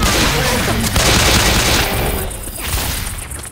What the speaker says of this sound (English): I gotta shoot again!